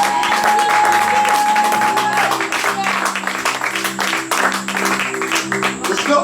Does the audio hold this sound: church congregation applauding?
yes